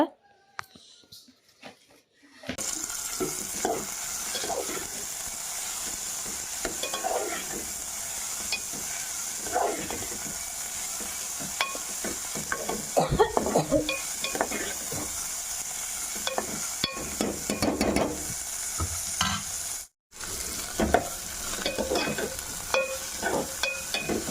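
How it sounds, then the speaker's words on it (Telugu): Boiled bitter gourd pieces fry in oil with tempering lentils while being stirred, giving a steady close sizzle with scraping stir strokes throughout and a brief quiet gap near the start. "ఉడకబెట్టుకున్న కాకరకాయ ముక్కలను అయితే ఆ నూనెలో వేసుకొని ఫ్రై చేసుకోవాలన్నమాట"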